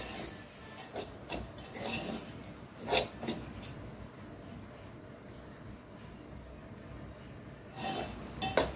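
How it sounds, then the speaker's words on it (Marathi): Semolina (rava) roasting in a pan over a medium flame for a savory instant masala idli breakfast, heard as a steady scraping, rasping stir with a few louder metallic clinks of the spoon against the pan. "चांगलं 1 मिनिटभर रवा चांगला परतून घ्यायचा"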